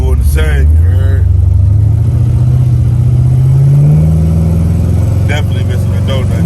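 A car engine with an exhaust leak revs up in a sustained, rising drone, loud and close, with people talking briefly at the start and end.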